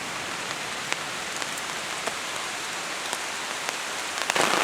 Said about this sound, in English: And it's raining really heavily.